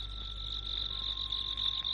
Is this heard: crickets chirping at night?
yes